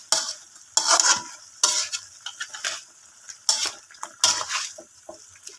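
Pork and chicken cubes for humba are stirred in a pan: about seven bursts of metal scraping and clattering, each with a sizzling fry, separated by quieter gaps. No talking.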